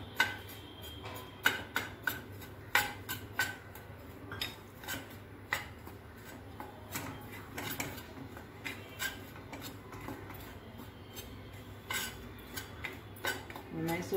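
Spoon scraping and clinking in a pan while dry-roasting an ingredient for Mysore pak, a run of irregular metallic taps and scrapes at close range, with no voices.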